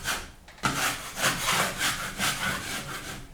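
Scraper blade drags across dried drywall joint compound on a ceiling, rough rasping strokes repeating steadily about every half second, close and fairly loud with no talk.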